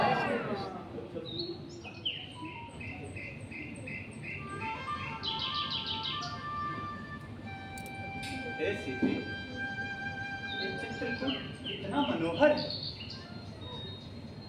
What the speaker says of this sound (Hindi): पक्षीगण चहचहा रहे हैं।